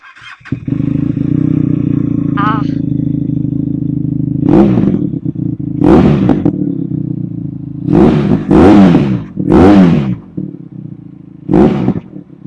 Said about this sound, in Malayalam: ഞാൻ നിങ്ങൾക്ക് ഇതിന്റെ എക്സോസ്റ്റ് ഒന്ന് കേൾപ്പിച്ചരാട്ടോ.